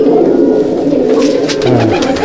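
Close, continuous cooing from Malbai pigeons kept in a loft, a low throaty drone layered with overlapping calls and a brief deeper coo near the end.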